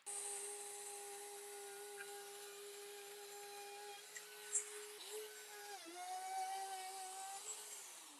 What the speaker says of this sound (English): With my router now attached, I can go ahead and make my first cut, which is going to be at 1/8 of an inch